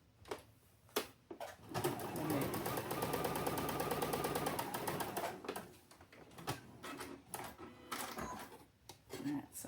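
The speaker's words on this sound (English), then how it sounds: "And we're going to sew." A home sewing machine runs in a steady mechanical whir for a few seconds, stitching a fabric seam, with short taps and handling noises before and after.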